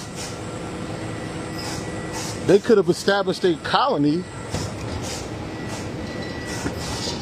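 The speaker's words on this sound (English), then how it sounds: "The train." A train rumbles past steadily in the background near trees and logs, a continuous low roar under a voice that talks over it for a few seconds.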